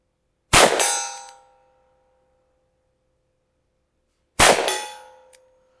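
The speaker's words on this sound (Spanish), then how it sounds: "si está a 50 metros se vuelve bang, ding, con mucho retraso" Two bullets from an S&W Schofield revolver strike a steel gong at about 50 metres, each a loud ringing metallic clang with a sustained tone that decays over a second, spaced several seconds apart with silence between.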